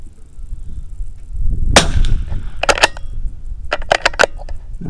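Pistol shots ring out at a CCI pistol match competition, a loud crack followed by several sharp reports in a quick irregular series, close and punchy over low background rumble.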